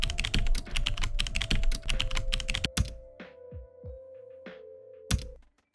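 Commands are typed on a computer keyboard in quick bursts of close clicking keys, then a few isolated keystrokes spaced out before a final tap, with a low steady hum underneath.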